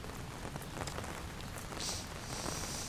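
Steady, dense rain patters down on umbrellas in a visual-novel video game, a close, even hiss of drops with no voices over it.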